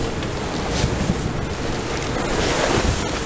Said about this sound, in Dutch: We hebben een aardig windje, af en toe 32 knopen wind over dek.